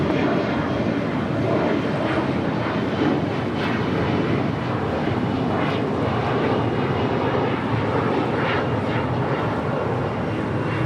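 An American Airlines airliner roars down the runway on takeoff at LAX, a loud, steady broadband engine roar that fills the whole stretch with a wind-buffeted edge and no talking.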